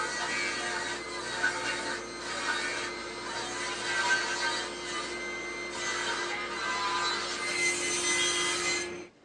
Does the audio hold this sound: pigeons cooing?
no